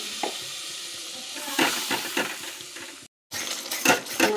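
Fried spices hiss and sizzle in a pan as water is poured in, the noise loud and steady, with a brief gap, then spoon stirring and scraping clinks against the pan.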